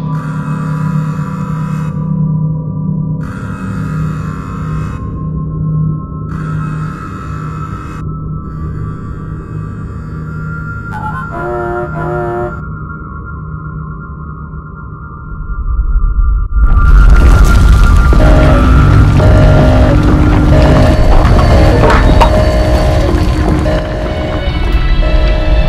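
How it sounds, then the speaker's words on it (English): A Roblox reactor core ignition sequence in a gas station game: a sustained tone with repeated pulsing beeps, then a sudden loud roaring surge of broadband noise that keeps going to the end, with no talk. "Reactor core ignition sequence primed."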